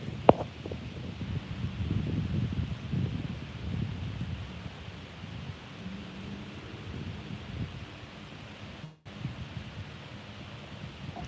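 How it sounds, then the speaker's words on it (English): Steady wind blows outdoors, a broad rushing noise with low buffeting gusts against the microphone that rise and ease throughout, with no voices. "Oh, the wind has changed direction. It's now blowing me backwards."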